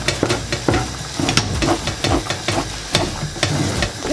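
Maize meal ugali being stirred and pressed in a saucepan, a close run of repeated thick scraping strokes and soft thuds with a bubbling, sizzling undertone.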